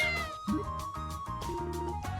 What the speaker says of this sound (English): Here's a cat. It's affectionate.